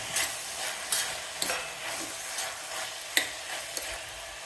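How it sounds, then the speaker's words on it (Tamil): Tomatoes go into a frying pan of vegetable kurma base and are stirred, giving a steady oily sizzle with repeated scraping spoon strokes against the pan, close and moderately loud with no talking. "நம்ம இப்போ தக்காளி பழம் போட்டுக்கலாம்."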